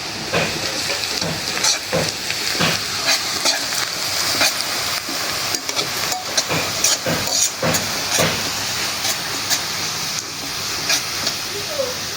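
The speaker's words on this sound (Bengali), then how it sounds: "ভেজে নিলাম" Onion, garlic and cumin sizzle and fry in a pan at close range, a steady loud hiss with crackling pops and occasional stirring scrapes throughout.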